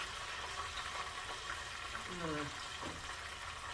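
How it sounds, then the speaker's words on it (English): Steady sizzling of pork chops frying in a pan, a constant crackling hiss with brief clinks of utensils partway through. "all that sizzle in that frying pan"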